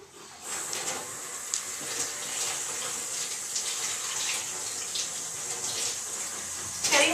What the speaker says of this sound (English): I'm going to turn on the water and adjust the temperature